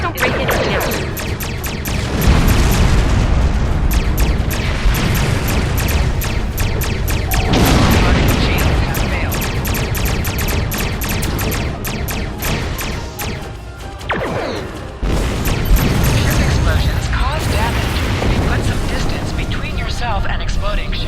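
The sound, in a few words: exploding ships in a Star Trek video game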